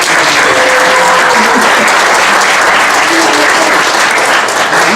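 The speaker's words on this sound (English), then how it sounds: "I wanted a special round of applause for Pete Barron for putting this together" Loud, dense applause from a yacht club audience at a change of watch ceremony, continuous and close, filling the whole stretch without a break.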